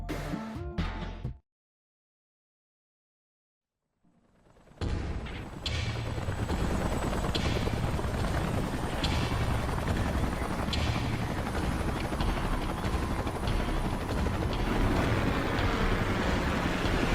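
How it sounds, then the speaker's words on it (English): Salvage helicopters arriving in the Xenoblade Chronicles X game: a loud, steady rotor and engine roar that fills the scene after a brief silence, continuous and close. "Let's call in the salvage choppers and get it out of here."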